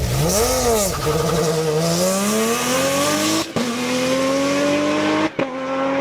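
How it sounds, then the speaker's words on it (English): A Lotus 311 with a supercharged Toyota V6 in Forza Horizon 5 revs and accelerates, its loud engine tone climbing through gear changes with brief dips between shifts, alone without talk. "the Lotus 311 is powered by a supercharged V6 engine from a Toyota Camry"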